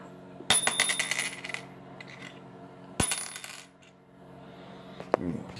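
A gold coin is dropped twice on a hard surface, each fall landing with a bright clink and a lingering metallic ring that slowly fades.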